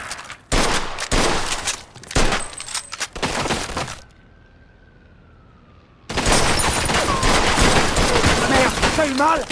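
Gunfire in the video game Mafia II comes as loud, dense bursts of shots for several seconds, then a near-silent gap with a thin tone, then sustained heavy firing again.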